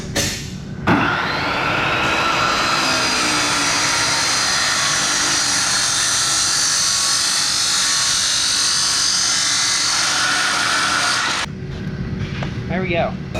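A power tool cuts through a 15-inch metal exhaust pipe with a loud, steady whining grind that runs close and unbroken for about ten seconds, then stops abruptly.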